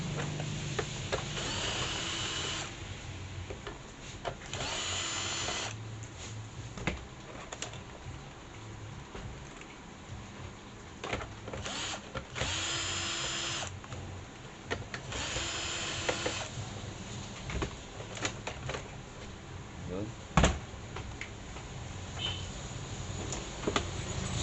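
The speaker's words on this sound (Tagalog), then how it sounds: "Baklasin na natin yung mga tornilyo." Screws are being removed from an HP monitor under repair, with several bursts of a whirring power driver separated by quieter handling clatter and small knocks, nearby and without speech.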